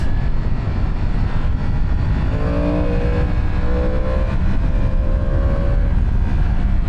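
A Yamaha R1 sport motorcycle accelerating hard in first gear, heard as a loud steady roar dominated by wind rush, with a rising engine whine faintly poking through the middle.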